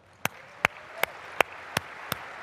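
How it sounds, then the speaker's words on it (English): At a keynote event in Las Vegas, six slow, evenly spaced single claps ring out, crisp and fairly faint against a quiet room, more like one pair of hands than a full crowd. "giving a big round of applause to all of our presenters"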